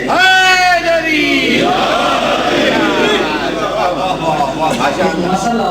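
A gathered religious congregation at a Muharram majlis shouts back in unison after a leader's call, a loud massed vocal roar that swells and sustains, following a single voice's cry at the start.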